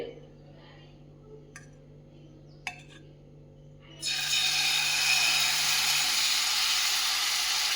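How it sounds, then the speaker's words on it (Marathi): Spinach ghavan batter poured onto a well-heated pan gives a sudden loud, steady sizzle that starts partway through and keeps hissing to the end, after a few faint clinks and quiet kitchen background. "पॅन व्यवस्थित गरम झालेला आहे तर आता आपण घावणं सोडायला घेऊयात"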